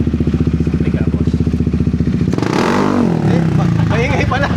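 A Yamaha XMAX scooter with an aftermarket exhaust pipe, parked on its side stand, idles with a steady pulsing putter, then is revved hard into a loud rising roar. A voice speaks over the revving.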